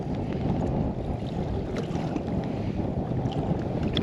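Steady wind rushing over open water on a fishing boat during fall blackfish season in western Long Island Sound, constant and fairly loud with gusty microphone buffeting and faint lapping, no talking.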